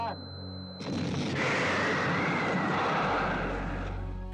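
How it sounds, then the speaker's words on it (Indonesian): A sudden loud blast erupts and swells into a long, roaring rumble that slowly fades, dense and powerful: the spaceship Nostromo exploding in a film. "Nostromus meledak dan tidak menyisakan apapun"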